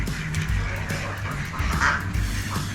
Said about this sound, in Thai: เป็ดน้อย